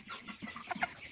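A 4-week-old broiler chicken clucks in short, uneven bursts while being weighed on a scale, close and fairly soft, with no talk.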